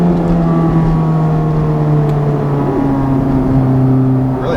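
A 2019 Honda Civic Type R fitted with a Borla exhaust pulls hard under acceleration, its steady, loud engine drone rising gradually in pitch from up close, with no talking.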